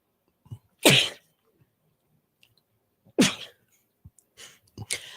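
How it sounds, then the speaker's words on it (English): Two sharp sneezes, close and loud, with short breaths and small noises in between, then another burst at the end. "I have to sneeze again."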